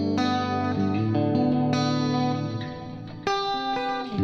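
Clean electric guitar lead through a Fractal preset built on a Custom Audio clean amp, sustained melodic notes ringing with chorus and reverb, fresh picked notes near the start, middle and late in the phrase, no talking.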